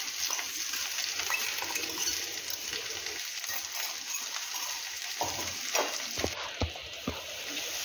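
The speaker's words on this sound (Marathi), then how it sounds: "आता यामध्ये आपण मिक्सरमध्ये जे मिरची आणि लसूणचे वाटण तयार केले होते ते आता आपण यामध्ये घालून घेणार आहोत" Okra being stir-fried in a pan as chili and garlic paste goes in, with a steady hissing sizzle and occasional scraping stirs.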